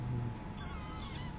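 A cat meows indoors: short high-pitched mews come and go over a steady low hum of room noise, with no talk.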